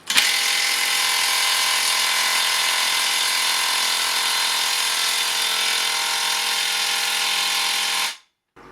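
A Makita power tool drives a 300 mm earth auger in a steady, loud, high-pitched mechanical whine with ratcheting gear noise, running continuously for about eight seconds before cutting off abruptly.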